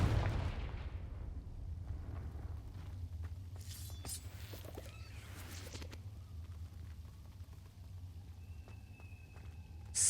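A Confringo fire spell explodes in the wizarding game Hogwarts Legacy: a burst at the start fades into a long low rumble, with scattered clicks and thuds over a steady background hum and no speech.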